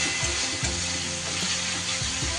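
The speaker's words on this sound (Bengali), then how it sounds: "লঙ্কা বাটাটা 1 চা চামচের একটু কম দিয়ে এবার সব মশলা খুব ভালো করে কষিয়ে নেব" Spice masala with chilli paste sizzling and frying in a pan as it is stirred, a loud continuous crackle with occasional scraping knocks, close up and without talk.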